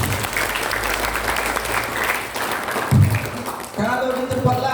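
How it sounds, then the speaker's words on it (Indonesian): An audience at a school Maulid Nabi religious lecture applauds students in a steady, dense wash of clapping that stays loud throughout, with a voice rising over it near the end. "Tepuk tangan untuk kalian."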